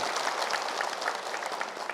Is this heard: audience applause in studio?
yes